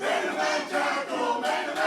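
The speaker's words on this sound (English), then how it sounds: "branded by the crowd here into the Nutley Nut House with the nickname of Main Event Jocko" A wrestling crowd in a packed hall chants a wrestler's nickname in rhythmic, surging waves, loud and continuous with brief dips between repetitions.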